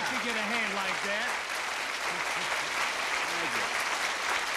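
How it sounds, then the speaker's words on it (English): A studio audience at a televised variety show claps loudly and continuously, and a voice speaks briefly over the sustained applause. "Listen to that applause."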